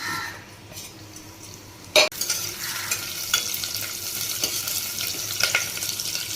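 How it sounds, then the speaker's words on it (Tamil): Cinnamon, cloves, star anise, curry leaves and cardamom sizzle steadily in hot oil, a constant crackling hiss with a sharp clatter of a utensil and occasional stirring scrapes. "பட்டை, கிராம்பு, அன்னாசிப்பூ, கருவேப்பிலை, ஏலக்காய் தாளிக்கிறதுக்கு இதெல்லாம் போடுறேன்"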